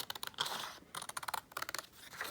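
Scissors cutting out a paper card embossed with a 3D folder: quick bursts of crisp snipping and rustling paper, close and quiet, in two or three short runs.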